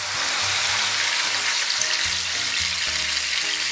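Tap water poured into a hot wok of red chili oil with chili sauce, bean paste and hotpot base sends up a loud, continuous hiss and sizzle, close up and without talk.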